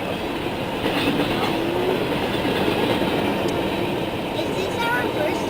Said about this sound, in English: we've stopped at trains before.